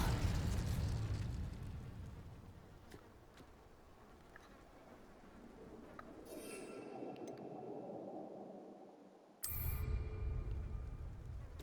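An Incendio fire spell blasts in Hogwarts Legacy, a heavy roaring burst that fades into a rumbling wash, followed by a sharp crackle and a renewed whoosh of flame.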